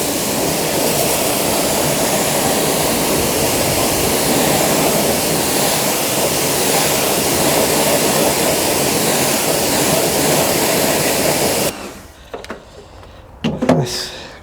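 Water sprays hard onto heavily soiled car wheels, a loud, dense, continuous hiss that cuts off abruptly near the end, leaving a few faint knocks and clatters.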